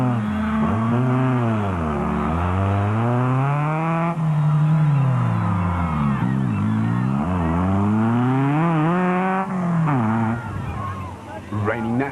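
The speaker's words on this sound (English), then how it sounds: "that big old Bat Spec 1 engine was still sounding great" A race car with a big Bat Spec 1 engine at the 2006 Toyota 1000 race gives a loud, continuous engine note that rises and falls repeatedly with gear changes and throttle, heard under ongoing commentary.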